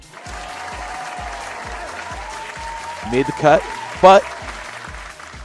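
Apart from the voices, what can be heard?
applause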